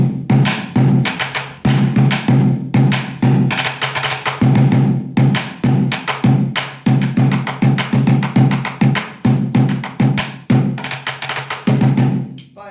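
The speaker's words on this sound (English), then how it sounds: "If you're doing it on one bucket, it could sound something like this." Bucket drumming on a single bucket with drumsticks: a steady, loud groove of punchy low thumps mixed with sharp rim and stick clicks, played continuously with brief pauses and no talking.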